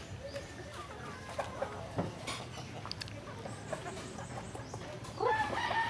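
Backyard chickens and a rooster cluck and call continuously at moderate distance around feed of ground corn, with one louder squawking flurry near the end.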